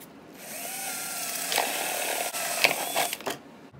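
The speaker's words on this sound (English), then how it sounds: "I'm gonna drill some holes in the top" A power drill bores holes in the top of shallow plastic containers for an aquaponics fish tank filter, a steady whirring hum with a few sharp bursts as the bit bites in, close and fairly loud, with no talking.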